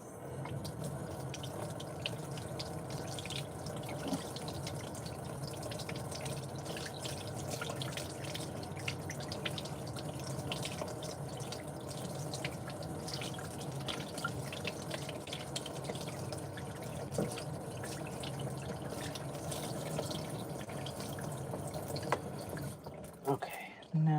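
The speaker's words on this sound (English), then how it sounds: "let me just wet her hair real quick" Tap water runs steadily into a sink to wet a Crissy doll's hair, a continuous hiss and trickle lasting about twenty seconds before it shuts off.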